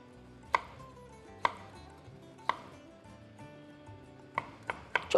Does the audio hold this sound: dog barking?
no